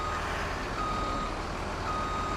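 A truck in the Farming Simulator 17 video game reversing near a truck wash, its backup alarm beeping at an even, repeating pace over a steady engine rumble.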